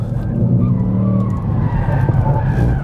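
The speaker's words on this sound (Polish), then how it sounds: "Przednionapędowe auto Fiesta ST, która jeździ bokami" Front-wheel-drive Ford Fiesta ST sliding sideways, a loud close tire skid and squeal over the engine note, sustained for nearly three seconds.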